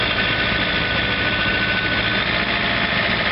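A John Deere 2720 compact tractor runs a 47-inch snow blower at raised throttle, a loud, steady engine drone with broadband blower roar, close and unbroken, no talk.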